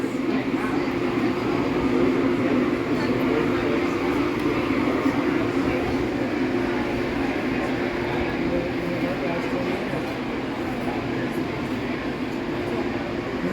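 Steady rumble and rattle of a moving Verde Canyon Railroad train car near Clarkdale, Arizona, continuous and fairly loud throughout, with a faint murmur of voices beneath the rolling noise.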